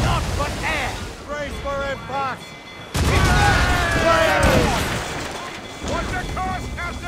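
Ship cannons fire during a naval battle in Assassin's Creed Rogue, a loud burst of booming shots and rumble arriving at once and overlapping, with game voices shouting and talking over the gunfire.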